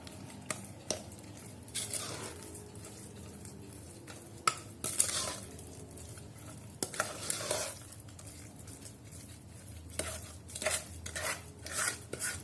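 A spoon stirs date cake batter in a bowl by hand, giving soft wet scraping and squishing strokes with a few sharp clinks against the bowl, close and steady, with no voices.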